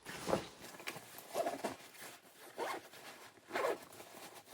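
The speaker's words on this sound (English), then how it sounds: "Once this is all zipped up" A zipper closes a packed travel bag in four quick rasping pulls about a second apart, close and fairly quiet with faint handling sounds between the strokes.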